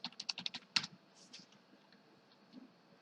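Keys clacking on a computer keyboard as a user ID and password are entered for a login, a quick burst of close, crisp keystrokes followed by near silence.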